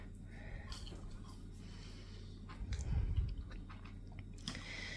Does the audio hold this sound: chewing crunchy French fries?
yes